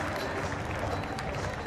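A stadium crowd at a New Zealand v Sri Lanka T20 cricket match applauds a batsman with a dense, continuous wash of clapping, heard at a distance with a commentator's voice over it.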